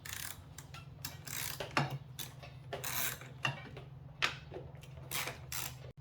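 Two 10 mm nut washers come off the engine of a 2010 Audi Q5 3.2L V6 FSI, with quick ratchet clicks and small metallic ticks in uneven bursts over a low steady hum, close and quiet.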